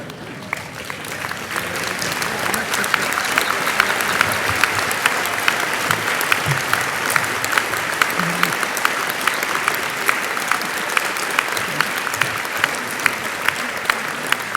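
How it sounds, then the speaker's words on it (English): At a university graduation ceremony, a large audience applauds the graduates in a dense, sustained wave of clapping that swells and holds steady. "So I'd like the audience to stand up and clap the graduates"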